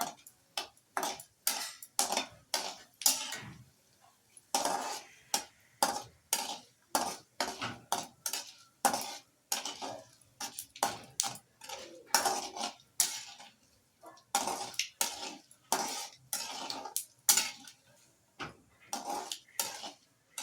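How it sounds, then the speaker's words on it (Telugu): Tempering for flattened-rice poha is stirred in a pan over low flame: a spoon strikes and scrapes the metal in a quick, steady rhythm of close clinks, with no sizzle clearly standing out. "చూడండి, పోపు ఎర్రగా వేగింది కదా."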